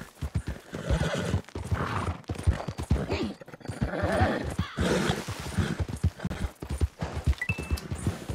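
Rhythmic hoofbeats of a galloping horse in Red Dead Redemption 2 drum steadily under a voice talking throughout, with a brief whinny rising near the end.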